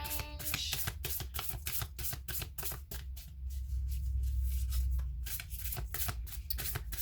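Tarot cards being shuffled by hand, a rapid run of crisp papery riffs and flicks that keeps going with only a short softer pause in the middle, close and fairly loud, with no one talking.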